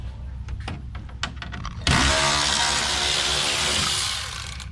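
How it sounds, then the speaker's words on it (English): On the grille of a 2022 Ford Bronco WildTrak, a few light clicks and taps give way to the loud, close whir of an electric ratchet running continuously while removing screws, then fading slightly as it winds down. "especially with the electrical ratchet"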